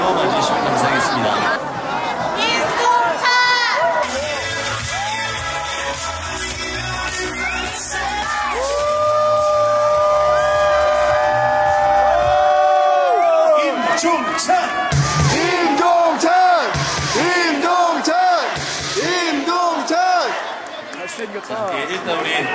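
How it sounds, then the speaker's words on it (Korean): A baseball stadium crowd at a Hanwha Eagles home game in Daejeon applauds and cheers for a player, with a loud, sustained roar and chatter mixed with an announcer's amplified voice and stadium music. "박수와 함성으로 맞으시면 감사하겠습니다"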